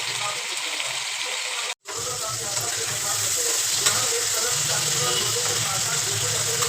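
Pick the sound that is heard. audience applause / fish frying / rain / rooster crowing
fish frying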